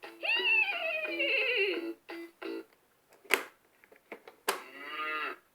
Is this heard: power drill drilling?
no